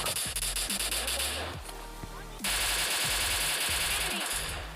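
Rapid automatic gunfire from MK and S12 guns in a mobile battle-royale game rattles in dense repeated bursts, loud and continuous with a brief lull, while a voice talks over it.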